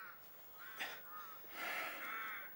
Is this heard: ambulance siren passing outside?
no